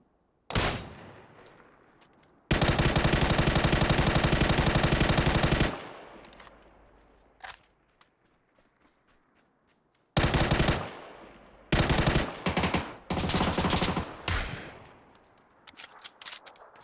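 Bursts of automatic gunfire in the battle royale game PUBG on Solar Island, with a single sharp shot, a long sustained burst, then several shorter clustered bursts near the end and quiet gaps in between.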